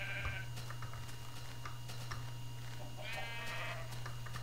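Sheep in the Minecraft video game bleat twice in quick succession, fairly close and clear, over a steady low game hum with small clicks and no talking.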